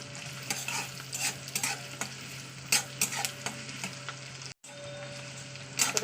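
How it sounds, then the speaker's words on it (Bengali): Chopped onion fries in mustard oil in a kadai, giving a steady close sizzle broken by scraping stirs and clinks, with one brief dropout near the end. "পেঁয়াজটা একটু ভাজা ভাজা করে নিতে হবে।"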